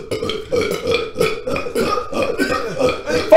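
A man lets out a long series of deep, guttural burps, rolling one into another in loud, throaty pulses for several seconds.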